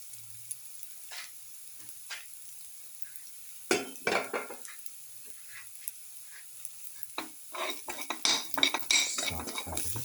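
Cumin seeds drop into a hot pan and crackle in oil, then a spoon scrapes and clinks against the metal in irregular bursts of stirring, growing busier toward the end, close by with no talking.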